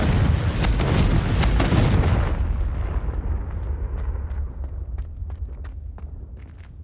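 A Confringo fire spell bursts in Hogwarts Legacy, a loud booming explosion that roars for about two seconds then rumbles and fades into a long low tail with scattered faint crackles.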